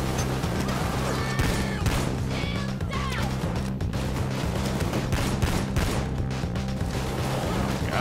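Shotgun fire in the video game Payday 2, a rapid series of sharp blasts and crashes over a dense, loud game soundscape with steady low-end rumble, no clear talk.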